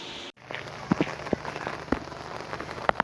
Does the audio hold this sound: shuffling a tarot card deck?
no